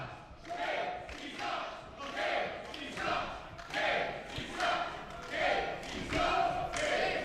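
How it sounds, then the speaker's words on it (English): Wrestling crowd at a live PowerBomb Wrestling event chanting a rhythmic taunt at a wrestler named Casey, loud repeated two-beat shouts that rise and fall steadily throughout. "The Casey sucks chants are going on."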